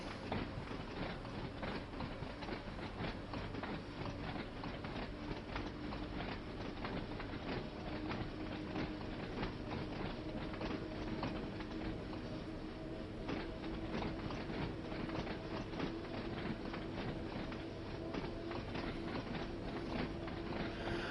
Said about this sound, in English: I thought I heard the train speeding up